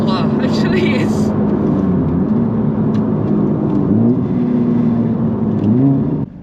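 A Honda Civic Type R FK8R accelerating hard in R+ mode, heard from inside as a loud, sustained engine drone that rises and dips through gear changes, with a voice talking over it at the start.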